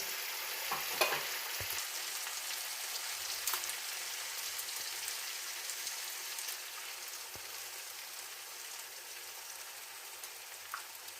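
A quiet, steady sizzle of tomatoes frying in a pan, with a few faint clicks and scrapes; no talking.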